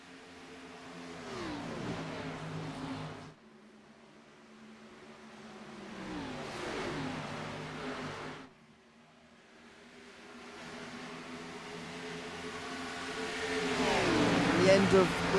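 Race cars in the Skylark 225 at Charlotte Motor Speedway, engines swelling and fading as they pass in waves, building to a loud roar at the end, with a commentator talking over them.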